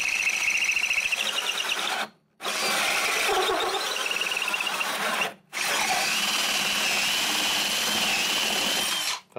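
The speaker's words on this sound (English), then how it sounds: "So yeah, let me get to drilling the hole in this." A cordless power drill bores a hole through a wooden nuc box for beekeeping, whining and grinding in three long close bursts separated by brief pauses, with a high squeal as the bit bites.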